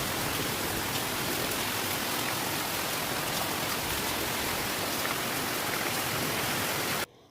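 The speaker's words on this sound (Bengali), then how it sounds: "বৃষ্টির আওয়াজটা শোনো জাস্ট" Heavy storm rain pours in a dense, unbroken hiss, loud and constant for about seven seconds before cutting off abruptly, with no voices present.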